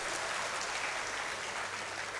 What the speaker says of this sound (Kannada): ಚಪ್ಪಾಳೆ ಹೊಡೀರಿ ಜೋರಾಗಿ